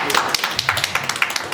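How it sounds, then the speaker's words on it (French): At a culinary diplomacy gathering, an audience gives a short round of scattered claps for a woman, the sharp hand claps heard under a speaker's voice. "on peut encore l'applaudir parce que bravo ce que tu fais Naïma"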